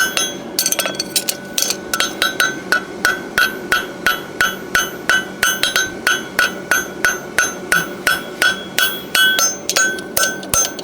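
Hammer strikes metal on an anvil in a brisk, even rhythm of ringing blows, close and loud, as a farrier forges a horseshoe a little at a time.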